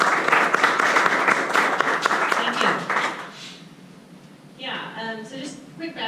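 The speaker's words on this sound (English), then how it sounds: "Give her a round of applause." Conference audience applauding to welcome a speaker, a burst of clapping for about three seconds that fades out, followed by someone speaking close to the microphone.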